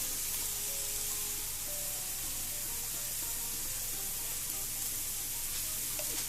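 Cloves frying in a pan for birria tacos, giving a continuous close sizzle and hiss with faint stirring under it and no talk.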